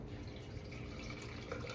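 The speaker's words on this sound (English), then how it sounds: "I'm gonna do 12 ounces of water" Water is poured into a container to measure 12 fluid ounces, a soft continuous trickling stream, faint and steady with no voices.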